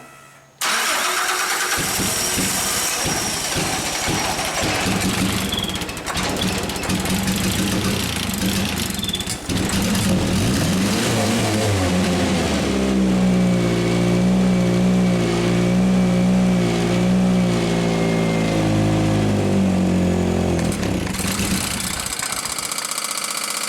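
Nissan engine on a SkyJack scissor lift fires up after a brief start and runs loud and close, the throttle surging and racing unevenly, with a steadier droning pitch toward the end before it cuts off abruptly.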